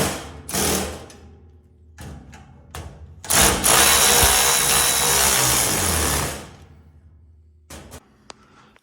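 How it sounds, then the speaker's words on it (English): An impact ratchet runs on a bolt of a trailer in a few short bursts, then in one long steady whirring run of about three seconds, loud and close, with no talk. "He's going to go ahead and use the impact ratchet on that."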